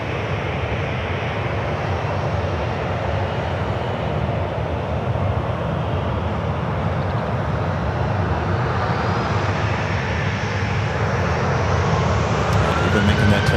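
A jet airliner takes off from runway 1 right at San Francisco International Airport, a steady loud broadband engine roar that holds throughout and swells slightly toward the end, with no voices.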